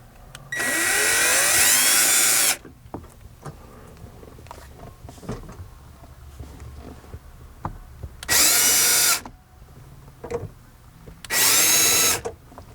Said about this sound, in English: to finish drilling and install nuts on the back side